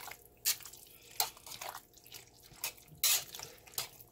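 Water is poured in short splashing bursts into a pot of potato soup with dill as it cooks, a few quick pours separated by brief pauses, close by and moderately quiet.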